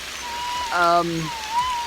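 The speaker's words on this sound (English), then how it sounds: "It's raining, so because I can't sort of walk particularly quickly, that's why I'm sheltering here waiting for the rain to stop." Steady rain falls outdoors as a soft, even hiss, with a brief tonal sound rising over it in the middle.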